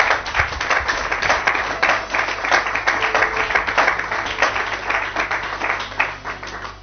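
A church congregation clapping together in steady, dense rhythmic applause to acclaim the Lord, loud and continuous with a faint musical hum underneath.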